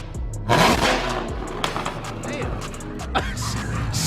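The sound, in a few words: Chevrolet Camaro ZL1 engine revving with new headers and exhaust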